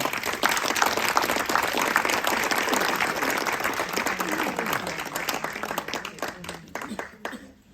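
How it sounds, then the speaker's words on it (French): An audience applauds Valérie Bugault at an evening talk, a dense, steady roar of many hands clapping that holds for several seconds and then thins out into scattered claps as it fades. "je vous demande d'applaudir ce soir Valérie Bugeaud"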